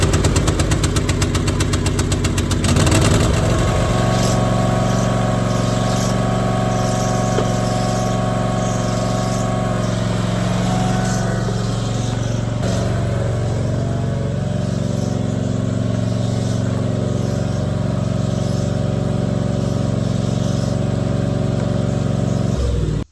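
A John Deere Z530M mower engine starts and runs steadily to warm its oil, a loud, close rumbling drone with a rapid chugging pulse after a rough start.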